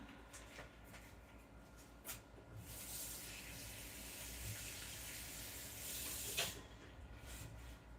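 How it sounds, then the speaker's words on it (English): Tap water running into a kitchen sink while hands are washed, a steady faint hiss with soft splashing that swells briefly near the end. "Let me wash my hands"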